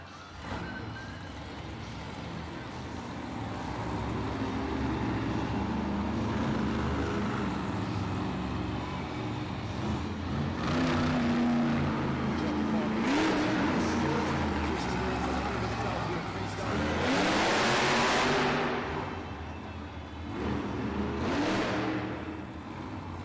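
Classroom Crusher monster truck engine revving at a Monster Jam freestyle event, loud roaring surges under an announcer's voice and crowd noise in a large arena.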